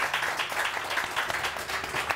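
An audience on a morning television show claps together in a brief, steady burst of applause that holds at an even level for a couple of seconds.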